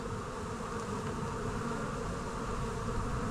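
Dense, steady hum of many honey bees swarming around an open hive, a continuous close buzzing that fills the air with no pauses.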